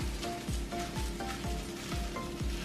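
Rice toasts in a hot pan with a soft, steady sizzle, broken by a regular rhythm of spoon scrapes as the grains are stirred continuously, close and fairly quiet.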